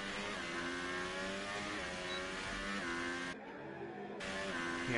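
Race car engine heard from the cockpit on a fastest lap on soft tyres at Hungary in a racing video game, revving steadily with rising and falling gear sweeps, loud and continuous, briefly dropping in pitch during a shift or lift.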